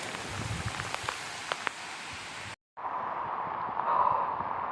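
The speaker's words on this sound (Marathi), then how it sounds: "जोराचा पाऊस पडतोय" Heavy monsoon rain pours steadily during a trek to Sagargad fort in the Sahyadri hills. The hiss is dense and continuous, broken by a brief silent gap before it resumes just as strong.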